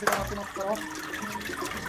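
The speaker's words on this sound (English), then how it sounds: "So you basically get the pulp and drain the water out." Water drains from a paper-pulp tray during papermaking: a brief, quiet splashing trickle that gushes at first and then settles into a soft, continuous wet rush.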